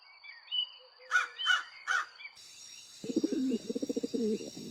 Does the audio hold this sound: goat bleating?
no